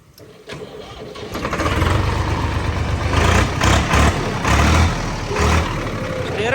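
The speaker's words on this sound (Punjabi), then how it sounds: "ਤੋ ਦੋਸਤੋ ਕਰਦੇ ਆ ਸਟਾਰਟ ਟਰੈਕਟਰ" A Swaraj 855 tractor diesel engine cranks and catches, then settles into a loud, close, throbbing idle with rhythmic low chugging pulses.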